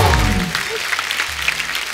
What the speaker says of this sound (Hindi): एक बार जोरदार तालियां हो जाए जवानी जाने मन की पूरी स्टार कास्ट के लिए